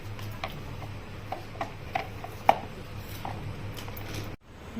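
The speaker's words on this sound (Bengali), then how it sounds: "চপার করা হয়ে গেছে" Chopping food for a Mughlai paratha filling produces a steady run of close, crisp chops with irregular spacing over a low background hum, ending in a short pause.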